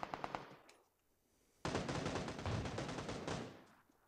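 Gunfire in the PUBG video game: a quick burst of four sharp shots, a short lull, then a long, loud, rapid automatic volley rattling on for about two seconds before trailing off.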